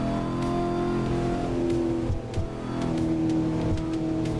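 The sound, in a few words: car engine driving in Assetto Corsa video game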